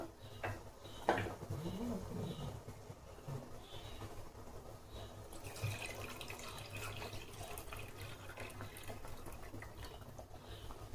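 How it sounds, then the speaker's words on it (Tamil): Water is poured into a cooking pot holding boiled green field beans for a brinjal kuzhambu, a quiet, uneven splashing and trickle in a home kitchen, with faint birdsong in the background. "உங்களுக்கு தேவையான அளவுக்கு தண்ணி ஊற்றிக்கலாம்."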